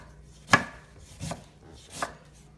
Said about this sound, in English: I want really thin slices on this just because it looks really pretty and it's easier.